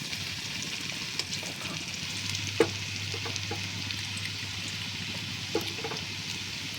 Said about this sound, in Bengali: তো আমি অল্প করে প্রথমে দিয়ে দেব। আমি প্রথমে একবার ভাজবো